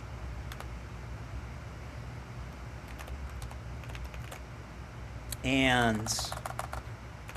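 Rapid typing on a computer keyboard while writing Unity game code, a steady stream of light clicks running throughout at close range, with a brief spoken word partway through.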